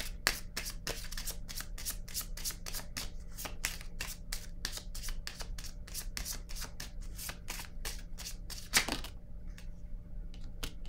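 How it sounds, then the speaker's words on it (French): Tarot cards being handled, shuffled and laid down, a rapid, steady run of close crisp card flicks that ends with a firmer slap, followed by quiet. "Je vais déposer une carte sur le pouvoir ici à l'envers."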